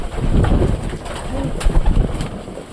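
Pigeons cooing in a breeding loft with speckled young birds, close soft repeated coos with a few rustles and faint chirps.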